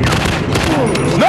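Rapid gunfire rattles in a zombie shooting video game, loud and close in a quick burst with whooshing effects and a rising synthetic tone at the end.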